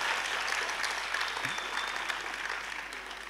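Audience at a Hindi poetry recital (mushaira) in Pant Nagar applauds: a steady, dense wash of many hands clapping, sustained throughout and slowly tapering near the end.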